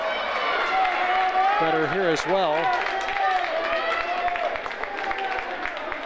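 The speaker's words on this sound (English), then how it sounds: "It's Lebanon boys basketball team down below to my left, making a lot of the clapping noise here" Students and the boys basketball team clap and cheer in a school gym during a Lebanon vs Hanover girls basketball game, a steady crowd roar with scattered claps under continuous commentary.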